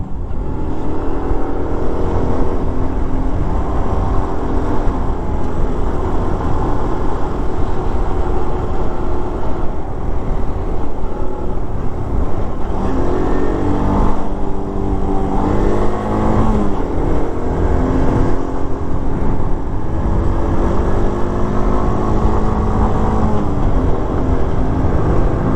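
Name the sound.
Honda CT200 motorcycle riding past on dirt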